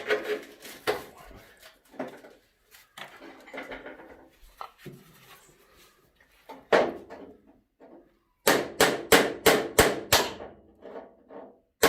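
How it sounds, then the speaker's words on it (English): A bolt is worked back into its hole on an International TD6 crawler tractor, giving scattered sharp metallic knocks and taps. A rapid run of six loud, evenly spaced strikes comes near the end. "I'm going to put this bolt back into this hole to take the tension off the two front ones"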